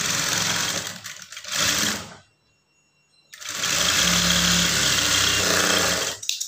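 A sewing machine runs fast and steady while stitching a lining blouse, loud and close, in two long bursts broken by a brief quiet pause.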